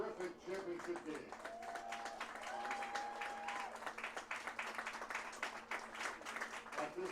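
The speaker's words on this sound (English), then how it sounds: "let's have a round of applause for the two teams that provide us with a terrific championship game" A crowd at a 2019 Centennial Conference championship ceremony between Johns Hopkins and Haverford gives both teams a round of applause, with fairly faint, scattered clapping and cheering and a voice over a public address system.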